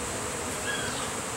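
A honey bee swarm gathered on a box produces a soft, continuous insect hum, faint and steady throughout with a brief thin whine partway through.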